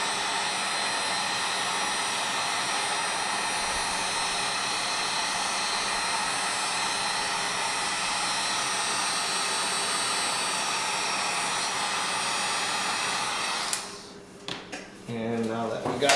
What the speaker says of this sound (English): we'll get our heat gun and we'll shrink them on